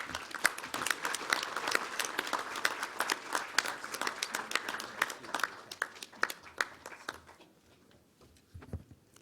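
Audience applause welcoming Rabbi Jacob J. Schachter at a Yad Vashem dinner event, a dense sustained clapping from a large crowd that thins out and fades toward the end.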